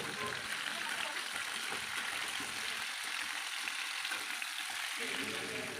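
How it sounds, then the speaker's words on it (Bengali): Raw mango pieces fry in hot oil for a pickle, giving a steady, close, dense sizzle with faint stirring throughout. "এবার আমগুলো আমি একটু ভাজা ভাজা করে নেব"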